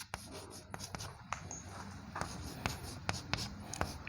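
Chalk or marker writing on a classroom board during an organic chemistry lesson: repeated short strokes and taps with a soft rubbing scrape, fairly close, with no speech over it.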